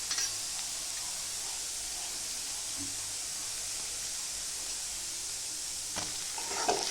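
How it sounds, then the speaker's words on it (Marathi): Onions and tomato sautéing in oil give a quiet, even sizzle and hiss throughout, with a few faint stirring scrapes near the end and no voices. "टमाटर चांगलं परतून घ्यायचं"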